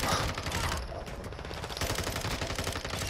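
Dense video game gunfire rattles in fast automatic bursts, loud and continuous, with overlapping shots and battle noise throughout.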